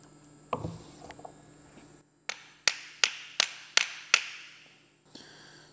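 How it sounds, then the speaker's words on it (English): A hammer strikes metal to drive out a throwout bearing during a manual transmission swap on an Austin A40. Five sharp, evenly spaced ringing blows follow an earlier clunk. "how about hammering?"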